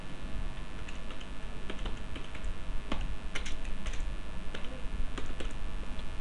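Steady typing on a computer keyboard, a close run of light, uneven clicks and taps over a faint background hiss, with no talking.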